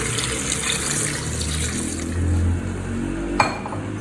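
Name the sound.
water poured into cooking pot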